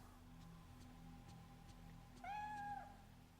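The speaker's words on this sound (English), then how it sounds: "My character has their own pet cat." A pet cat in the video game Project Zero 3 gives one clear, drawn-out meow over a steady low background hum of game ambience.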